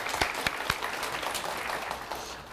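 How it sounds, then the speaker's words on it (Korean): A church congregation gives a round of applause, with a few sharp individual claps at the start, then a steady spread of hand-clapping that gradually fades out, fairly quiet and without voices. "우리 하나님께 감사의 박수를 드리겠습니다."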